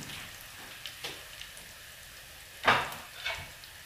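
Garlic fries in a pan in a home kitchen, a faint steady sizzle broken by a few scattered utensil clinks and one brighter scrape.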